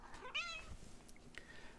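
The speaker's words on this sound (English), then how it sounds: "Heard the cat in the background." A house cat gives a single short meow early on, faint and somewhat distant in a quiet indoor room, followed by a few soft rustles and no speech.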